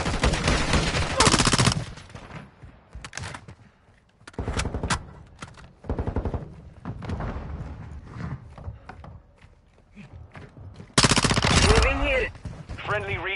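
Bursts of gunfire in a shooter video game, with rapid automatic fire in loud clusters separated by short pauses, and a voice talking now and then between the volleys.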